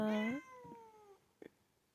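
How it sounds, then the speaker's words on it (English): A house cat gives one clear, loud meow with a rising then falling pitch, close by, followed by a quieter trailing tail and a couple of faint soft sounds. "my cat is meowing"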